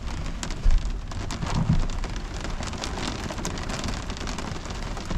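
Steady rain pattering on a truck during a nighttime thunderstorm, a dense, close hiss of drops with a few heavier thumps and low rumbling underneath, continuous from start to finish with no talking.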